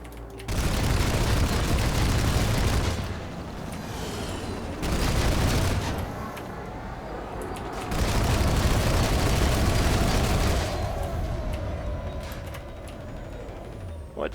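Gunfire and explosions rumble through a PlanetSide 2 battle in long, dense waves of booming fire that swell and fade over several seconds, loud and continuous, with a faint tonal hum in between.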